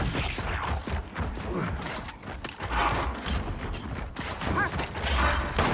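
Sniper rifle fire in Gears of War 4 multiplayer: repeated booming shots cut through a busy, loud battle mix with other weapons crackling nearby.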